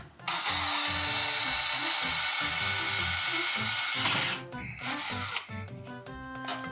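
A power drill fitted with a wood drill bit whirs loudly and steadily for about four seconds, then stops and restarts in short bursts, with small rattling handling noises between.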